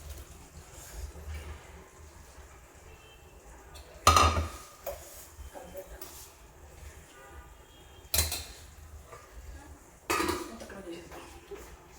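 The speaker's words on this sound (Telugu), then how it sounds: "ఇప్పుడు ఈ బెండకాయలు దీంట్లో వేద్దాము. చూడండి, బెండకాయలు వేస్తున్నాం." Okra is tipped into a pan of cooking masala for a sambar, a few loud clattering knocks of a utensil against the pan amid soft sizzling, with a cough and quiet background sounds.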